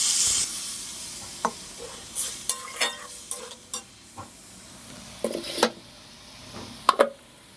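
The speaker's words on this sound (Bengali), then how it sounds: "এবার ছোলার আলুটা দিয়ে দেবো, দিয়ে একটু ভালোভাবে নেড়ে চেড়ে কষিয়ে নিয়ে" Chickpeas and potatoes stirred and fried in a pan for a Saturday khichuri, with a soft sizzle beneath a series of sharp, irregular spatula scrapes and clacks against the pan, close by.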